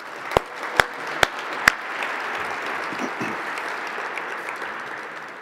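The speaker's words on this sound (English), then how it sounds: "So a round of applause for the sponsors." An audience at a conference applauds the event sponsors: four sharp separate claps open, followed by a soft, steady round of clapping that continues for several seconds at moderate distance.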